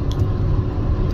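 Steady, loud wind roar and low rumble fill the inside of a van driving down the road, with airflow rushing over and under the roof-mounted solar panels near Quartzsite, Arizona.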